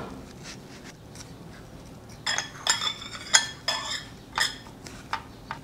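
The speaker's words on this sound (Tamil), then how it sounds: "இந்த மாதிரி இருக்கிறத லேசாக அறுத்து" A knife slices through watermelon on a board with a series of about eight soft, wet crunching cuts in the second half, each a short burst, close and moderately loud against a quiet room.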